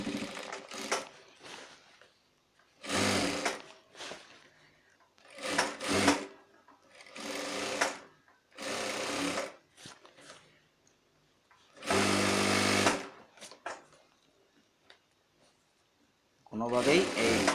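A sewing machine stitching a shirt in short whirring bursts of varying length, separated by pauses, with a person talking in between runs.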